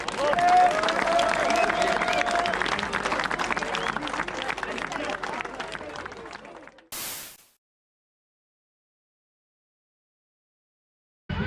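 A crowd at an event claps loudly for several seconds with voices and cheering mixed in, then the applause cuts off abruptly into silence.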